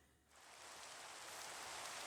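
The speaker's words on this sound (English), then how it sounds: "Oh, and now it is raining." Rain begins in a video game, swelling within a second from near quiet into a steady, faint hiss of falling drops that continues alone.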